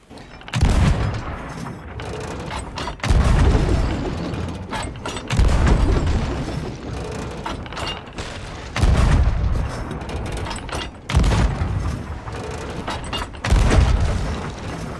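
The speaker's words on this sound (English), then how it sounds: "I'll be able to hit him with cannons from here." Repeated booming ship cannon blasts in the video game Sea of Thieves fire every couple of seconds, each heavy thud trailing into rumbling and clanking mechanical noise.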